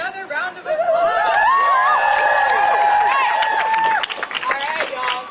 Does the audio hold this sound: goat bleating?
no